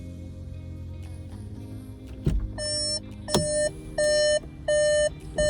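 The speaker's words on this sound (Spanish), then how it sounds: "cuando abramos la puerta del coche nos va a advertir de ello con un pitido y un mensaje en el cockpit" Repeated electronic warning chimes from a car with a DSG automatic gearbox when the door is opened, clean evenly spaced beeps after a couple of clunks, over a low cabin hum.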